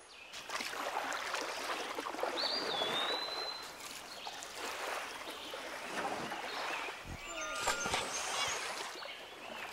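A river tumbles down from La Suay toward the Santiago River in Ecuador, a continuous rushing of water heard close and fairly steady, with a bird call and faint voices here and there.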